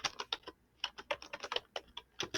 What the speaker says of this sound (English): Looks like I'll be doing some typing.